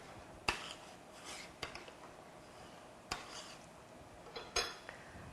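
A utensil scrapes and knocks against a metal pot while stirring sweet red bean porridge, irregular clinks and rasps in a quiet room.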